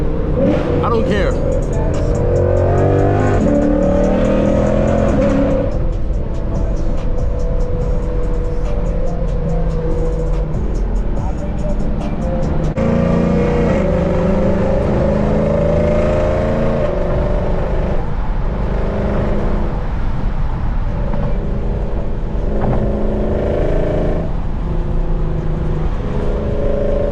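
A loud Lexus RC F with full bolt-ons and a tune roars through steady acceleration in a drive to the bank, the engine droning heavily throughout with gear changes and occasional speech.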